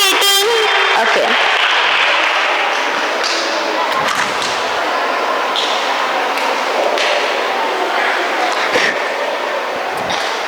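An audience bursts into applause after a participant's turn at a lively school science session, a dense, loud patter of clapping that runs throughout with some thumps and shouts mixed in.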